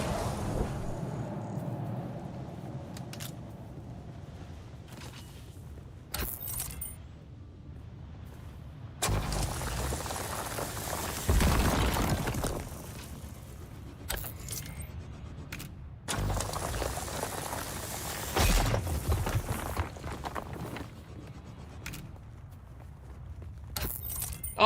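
A motorized mechanical whir from a recharging tool in the survival game Dune: Awakening, rising in swells of hum and clatter at moderate, fairly quiet level over faint background ambience, no speech.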